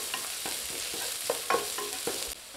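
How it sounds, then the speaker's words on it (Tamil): Chopped carrots and beans are stir-fried in a pan for a simple vegetable fried rice, with a steady sizzle and repeated scraping strokes of a spatula. No one speaks. "இதையும் சேர்த்து நல்லா வதக்கி விட்டுக்கலாம்"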